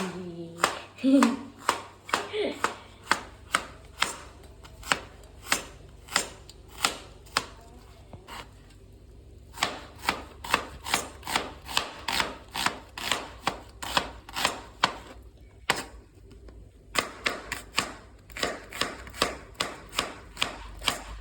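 Onions being chopped on a board with a knife, a long run of sharp rhythmic chops, close and loud, pausing briefly now and then before resuming at a brisk steady pace.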